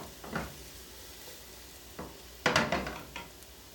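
Egg and potatoes frying in a hot pan turned up to high, heard as short bursts of sizzling and stirring clatter, three separate surges with the last and loudest trailing off, with no one talking.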